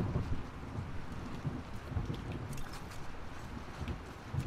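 Constant rainfall hisses and patters in The Last of Us Part II on PS4, with low thunder rumbling beneath at a moderate, even level throughout.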